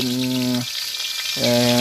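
Bhatua fish fry in a smoky kitchen with a steady bright sizzle, while a low droning hum cuts out in the middle and then returns.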